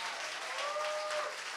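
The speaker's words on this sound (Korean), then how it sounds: "감사와 영광과 찬송의 박수 올려드리시다" Steady applause from a church congregation fills the whole moment, a dense wash of clapping with faint tonal hints in the background.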